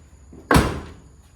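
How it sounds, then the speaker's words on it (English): Door of a square body Chevrolet C30 truck pushed shut, a single solid thunk with a short metallic ring, close and clear with no talk. "When have you seen a square body door that you could just push shut?"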